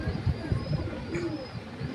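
Andhra pigeons, a male and a female of an old pedigree line, give soft low coos close by, with faint rustling and a whisper of voice in the background.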